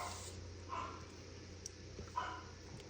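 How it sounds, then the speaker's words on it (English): Dogs bark a couple of times at a distance, two short faint bursts about a second and a half apart against a low steady background hum indoors. "Oh, there goes the dogs."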